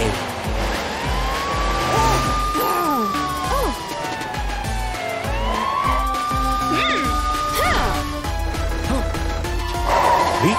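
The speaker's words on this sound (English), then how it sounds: "Oh, here's Matilda the police car chasing Crocomile." A police siren wails in rising and falling sweeps over a steady engine rumble, loud and close, continuing throughout.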